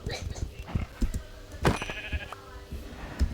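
Sheep in a Minecraft-style survival game bleat in a few short, close calls, with a sharp louder bleat midway amid scattered game clicks and footsteps.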